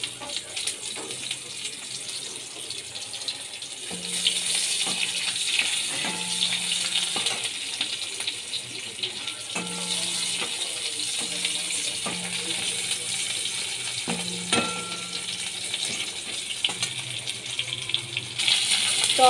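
Sliced onion drops into hot oil spiced with cumin, black cumin, cloves, cinnamon and cardamom, giving a steady close sizzling hiss broken by several light clinks and taps of a utensil against the pan.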